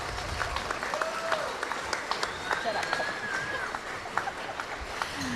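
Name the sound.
applause from the audience at a basketball game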